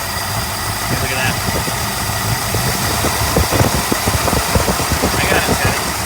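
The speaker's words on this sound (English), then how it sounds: "Idle's definitely got to be turned up." A 1964.5 Ford Mustang convertible engine idles steadily with a gummed-up carburetor, a close, continuous rumble with a faint uneven knock running through it. No one speaks over it.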